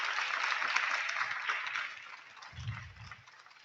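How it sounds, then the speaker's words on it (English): Sustained applause from an audience at an oratorical world championship finals rolls on steadily and gradually tapers, with a low voice briefly murmuring underneath near the end. "Let's give her a huge round of applause."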